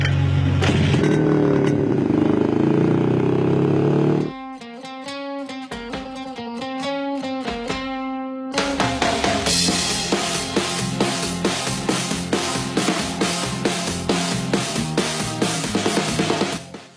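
A vintage Jawa motorcycle runs at a club exhibition, its engine settling into a loud, even, rapid pulsing thump for the second half, after stretches of other background sound.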